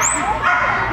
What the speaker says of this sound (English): Let's go find this puppy. I hear him. He sounds little.